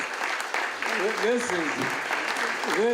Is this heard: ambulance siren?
no